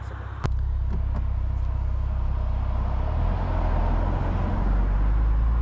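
A Porsche 992 Targa 4 GTS engine drones steadily while cruising a Vermont mountain road, starting after a sharp click, then holding a loud low rumble with road and wind noise.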